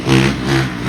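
A Honda CRF450R dirt bike engine, in good shape apart from a bent clutch bar, revs hard in two quick surges with a throaty, loud, close-up tone and no voices.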